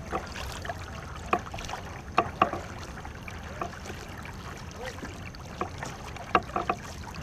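A war canoe crew paddles on open water, with faint, irregular splashing paddle strokes and drips scattered over a quiet watery background.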